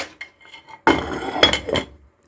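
A lid set onto a cooking pot, a sharp metallic clatter followed by a few lighter clinks and rattles as it settles, close and brief with quiet before.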